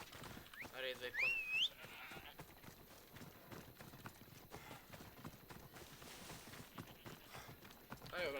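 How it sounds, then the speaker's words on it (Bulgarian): Horse hooves clip-clop steadily in the video game Assassin's Creed Odyssey as a horse approaches, a continuous rhythmic trotting under game sounds, with a whinny early on and someone talking over it. "Аре, идва кон."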